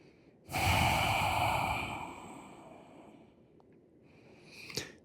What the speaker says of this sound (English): I'm going to breathe into this space here.